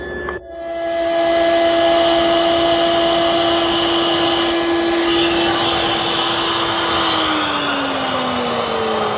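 A power tool, likely a router, cutting grooves in wooden side table pieces in a workshop, a loud steady high whine running continuously, pitch dropping slightly near the end, no talking.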